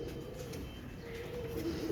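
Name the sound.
teddy pigeons cooing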